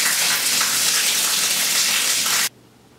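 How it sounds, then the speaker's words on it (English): Water gushes steadily from a house tap with no nozzle fitted, a loud even hiss and splash that cuts off abruptly near the end, leaving quiet. "Here is the water flow in this house without the nozzle"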